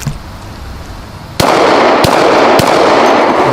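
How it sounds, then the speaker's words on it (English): Three sharp, loud shots from a 10mm Glock Gen 3 pistol fired at a paper target, spaced unevenly over a couple of seconds, each cracking close with a short ringing tail and no talk. "Let's shoot the paper target."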